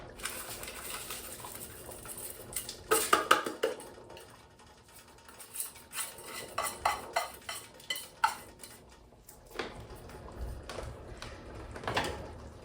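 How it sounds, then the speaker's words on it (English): Diced jalapenos are dumped into a cast iron pot of stovetop chili, making a quiet metallic clatter and scraping of pot and utensil in several bursts against a soft background. "I've also got about 3/4 of a cup of diced jalapenos I'm going to dump in there."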